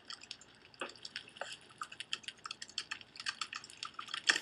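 Rapid computer keyboard typing, close and clear, with irregular bursts of clicky keystrokes and brief pauses, growing a bit busier toward the end, with no talking.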